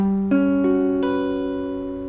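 A sustained quartal chord with open, stacked fourths rings out on a keyboard, with notes entering in a few quick steps and then fading slowly, heard alone.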